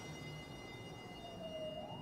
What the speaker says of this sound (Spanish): Y ese bullicio se rompió con el sonido de las sirenas de las campers de la Policía Federal.